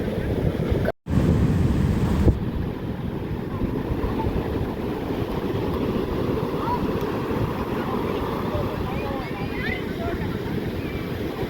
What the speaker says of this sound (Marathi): तर इथे लाटा खूप मोठ्या आहेत